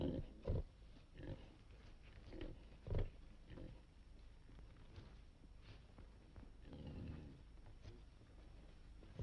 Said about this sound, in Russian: Скажите, пожалуйста, как называется эта свинья?